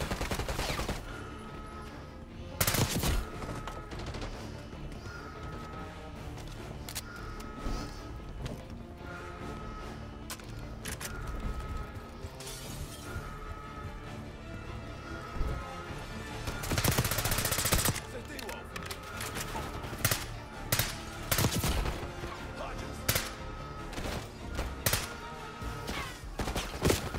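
Gunfire in Call of Duty: Black Ops 6, bursts of automatic shots and single cracks scattered over a steady game soundscape, some loud and close, others lighter, with a voice now and then.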